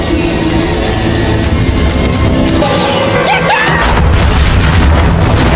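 Explosion in a Final Destination film, a loud dense roaring blast that fills the scene with sustained rumble and debris noise, steady and close for several seconds, with brief tonal sweeps in the middle.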